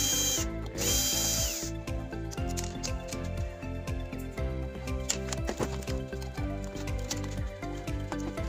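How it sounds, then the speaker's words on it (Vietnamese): Cover being taken off a faulty oil-free air fryer during repair: rapid mechanical ratcheting and clicking with a whirring, drill-like tool runs almost continuously, close and moderately loud, after a brief hiss at the start. "Mình phải tháo ra, mình tháo nắp kia này."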